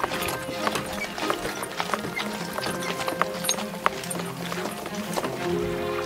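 A fast horse's hooves clip-clop in a quick, steady rhythm of sharp taps at moderate loudness, under a faint bed of other sounds.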